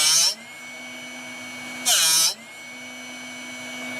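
A Drill Doctor 750X drill bit sharpener grinds a fairly new drill bit in two short, loud, harsh bursts over a steady motor hum.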